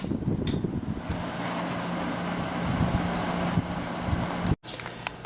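Sharp 5500 BTU window air conditioner running on high speed, a steady broadband fan whoosh with a low motor hum, constant and close, with a brief dropout near the end.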